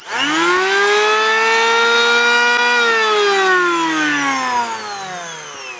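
A repaired DWT HB-650 electric planer runs with a loud, steady, high-pitched motor whine rich in harmonics. The pitch sags slightly as it spins down toward the end, with no talk.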